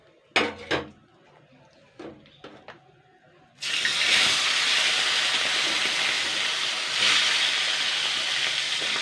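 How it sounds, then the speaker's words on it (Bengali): Fish heads rubbed with salt and turmeric are dropped into hot oil. A few light knocks come first, then a sudden loud, sustained sizzling hiss that keeps crackling steadily right up close. "গরম হয়ে গেছে, এবার আমি মাছের মাথাগুলো এক এক করে ছাড়বো।"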